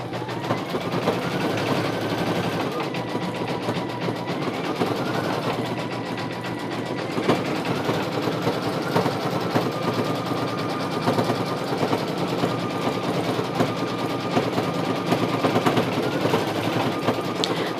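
A single needle embroidery machine stitching a design onto a beanie in a 4x4 hoop, giving a continuous, fast, close mechanical chatter with a steady whir throughout.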